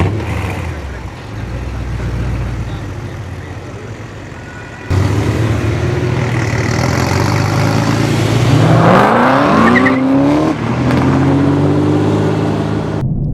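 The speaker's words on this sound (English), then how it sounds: "I mean, just hear this exhaust note." A V8 roadster's deep, rumbling exhaust idles loudly, then swells as the engine revs up and the pitch climbs and falls, heard close by.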